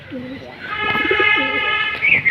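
A Jalali pigeon coos close by in soft low rolling phrases, with a bright chirping bird call over it and a person speaking briefly.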